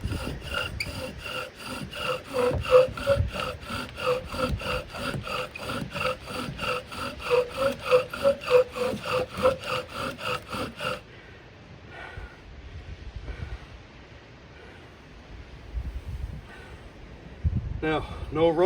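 A wooden bow drill spindle grinds against a wooden board in fast, rhythmic back-and-forth strokes, loud and close for about eleven seconds before easing into softer, scattered rubbing and breathing.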